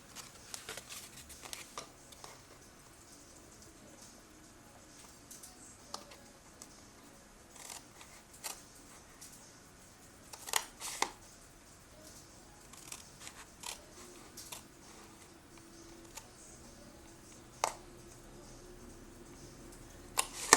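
Scissors cut away card to make a lever opening card, quiet crisp snips and clicks coming in irregular clusters over a faint background hiss.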